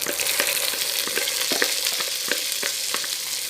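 Rice and toasted vermicelli fry in hot oil for koshari, a dense continuous sizzle broken by repeated scraping strokes of a spoon stirring the pan, close and steady throughout.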